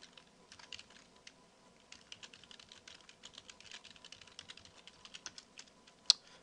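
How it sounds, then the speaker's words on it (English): Someone types a command on a computer keyboard, a quiet, close run of quick irregular key clicks with short pauses, ending in one sharper keystroke near the end. "when you're typing the source command"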